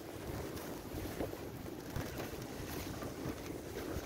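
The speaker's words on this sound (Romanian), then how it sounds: "Am cam începe să bate vântul." Steady wind roars across the microphone outdoors during a bicycle ride in Paris, a loud continuous rushing with gusty swells and no voices.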